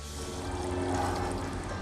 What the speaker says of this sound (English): you want to check that the water coolant jet is flowing strong